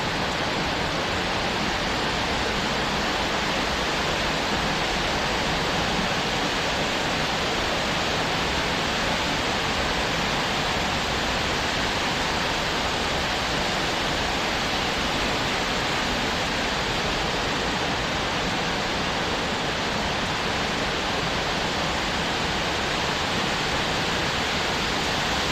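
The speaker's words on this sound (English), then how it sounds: "just how close we can get to the waterfall." A roaring waterfall at Savage Gulf State Park, Tennessee, heard up close as a loud, steady, unbroken wash of rushing water.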